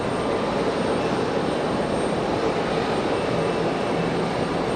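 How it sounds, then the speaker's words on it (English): An F-15 fighter jet on approach at Raleigh Durham airport gives a steady, broad, loud jet roar throughout, with no talk. "All right, so the F-15 cleared for the option."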